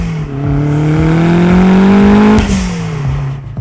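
A 1991 Toyota MR2 Turbo with its 3S-GTE engine revs up in a strong, rising pull that holds high, then drops sharply as the throttle closes and settles back toward a lower drone, loud and close.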